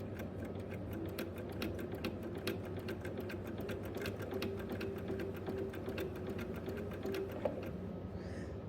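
A sewing machine runs a straight stitch for free-motion appliqué, its steady rapid ticking needle rhythm humming continuously and close at an even pace throughout.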